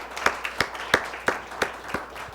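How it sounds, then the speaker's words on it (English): A small audience at a high school academic team game claps for the Community School of Naples team, with about eight sparse, distinct claps spaced in a loose rhythm, close and moderately loud. "Let's give Community School of Naples a round of applause."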